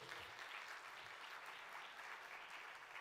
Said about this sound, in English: Let's welcome him with a grand applause.